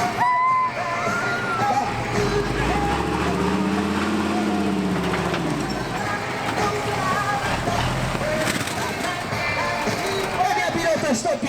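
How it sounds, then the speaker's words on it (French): A Spider-Man monster truck engine revs and labors loudly as it climbs onto cars at an outdoor stunt show, with a rising and falling roar, continuous crowd noise and a voice over a loudspeaker. "notre pilote, cette fois, il va vous positionner son Monster Truck sur ces voitures"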